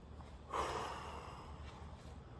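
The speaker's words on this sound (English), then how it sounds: "Breathe in. Blow out." A single breath blown out during a gentle outdoor strength workout, a short, soft, close exhale that rises sharply and fades over about a second against quiet background noise.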